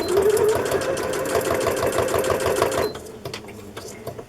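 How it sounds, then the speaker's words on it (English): A sewing machine stitches fabric onto the back of a large Christmas journal cover, giving a rapid, even mechanical chatter for almost three seconds before stopping, then a few light clicks and handling taps. The machine is close, with no talk. "I'm going to sew the back on first"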